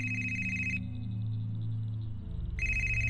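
A telephone rings in the mystery video game Hitch Hiker with a bright electronic trill that stops briefly and then resumes, over a steady low drone of driving ambience and no speech.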